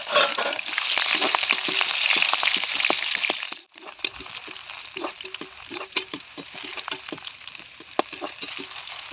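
Onion and chilli fry in hot oil with panch phoron, a loud dense sizzle that drops suddenly partway through and then continues more softly, broken by crackles and light stirring clicks.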